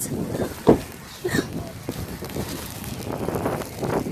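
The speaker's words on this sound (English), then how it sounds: "The wind is what's killing me." Strong blizzard wind in New York's Hudson Valley, roaring and buffeting the microphone in uneven gusts, with a voice briefly heard beneath it.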